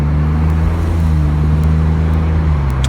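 A 2002 BMW Z3 3.0 Roadster cruises gently in automatic drive, its engine holding a steady, even drone with constant road noise and no revving.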